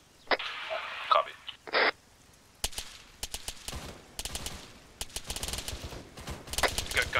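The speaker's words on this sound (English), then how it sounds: "We got gunshots to the west" Scattered bursts of rapid video game gunfire crack out in irregular clusters, with a couple of brief radio-like bursts near the start.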